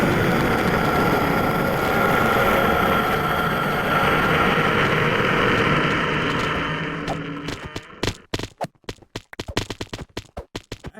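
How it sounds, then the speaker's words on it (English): A steady, loud engine drone fills a Minecraft world, like an airplane, holding for several seconds before thinning into a stuttering series of short, choppy bursts and gaps. "No more airplane sounds."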